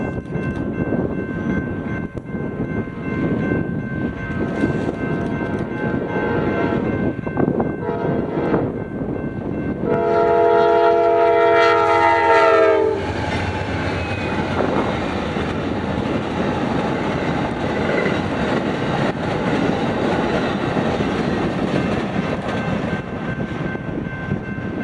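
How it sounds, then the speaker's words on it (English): Amtrak Southwest Chief passenger train led by P42DC locomotive number 7 rushes past at about 79 mph on a BNSF desert mainline; a loud horn blast sounds midway amid continuous rumbling, clattering wheels and rushing air. "Amtrak Southwest Chief number 3 heading to Los Angeles flew through at 79 miles an hour. This had P42DC number 7 leading."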